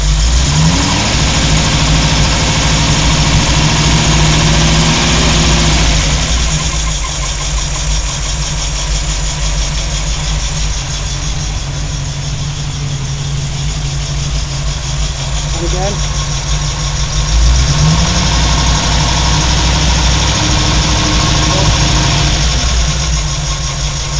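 A car engine runs loud and close as the car is driven, idling with repeated revs and shifts in pitch as it pulls away and comes back, and voices speak over it at times.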